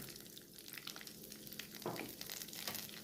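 Chana dal, urad dal and mustard seeds frying in ghee for a tempering, giving a steady close sizzle with faint crackles and a brief louder burst of spitting near the middle.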